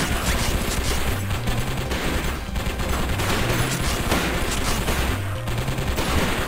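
Enemies in the video game Circuit Breakers fire guns in a dense, continuous barrage of rapid shots that stays loud throughout, with no talking over it.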